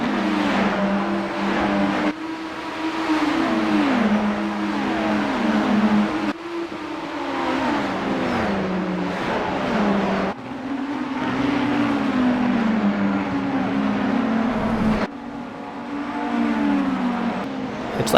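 Race car engines in the iRacing sim during an IMSA race roar continuously, rising and falling through gear shifts and throttle changes, loud and close with several abrupt cuts and no voices.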